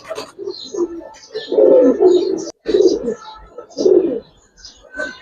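Giribaz and coloring pigeons coo close by in several throaty, rolling bursts with short pauses between them. Softer chirps and rustles fill the gaps.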